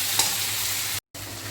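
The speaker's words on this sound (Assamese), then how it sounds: "আলু, বিলাহী আৰু মছলাখিনি একেলগে ভাজি ল'লোঁ" Potatoes, tomatoes and spices fry together in a pan over a medium-low gas flame, giving a steady close sizzle and crackle broken by a brief gap near the end.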